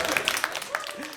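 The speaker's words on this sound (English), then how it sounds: "Those sad claps." A few scattered, half-hearted claps from a comedy club audience, faint and sparse over a second, with light room noise.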